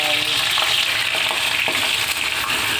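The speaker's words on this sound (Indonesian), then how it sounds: "Kita panaskan minyak untuk membuat sambal, untuk goreng sambal." Green chili sambal frying in hot oil gives a steady, loud, dense sizzle and crackle with occasional stirring scrapes, heard close up with no talking.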